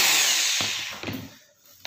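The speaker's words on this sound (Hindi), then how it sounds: "सबसे पहले मैंने एक ड्रिल मशीन ली है" An electric drill whirs at moderate loudness while boring holes into a broken racket during a repair, its steady whine easing off and broken by a few short knocks and clicks.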